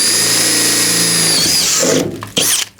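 A power drill whines steadily at high pitch, then bites and chatters as it pushes through Ford Transit van body metal, ending in a few short bursts.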